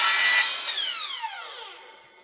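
A Ryobi chop saw bites through a wooden railing spindle, a loud burst of blade cutting that fades as the motor spins down with a falling whine over about two seconds.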